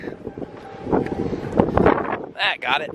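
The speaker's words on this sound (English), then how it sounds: "Pretty windy, so I apologize in advance for that." Gusts buffet the microphone outdoors at a dusty, windy High Sierra airfield, producing low rumbling bursts under a man's brief speech.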